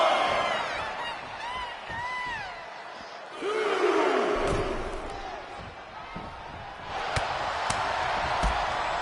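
A large arena crowd roars and swells in the background in the wrestling video game WWE 2K25, with sharp slams and impacts cutting through and a commentator calling out.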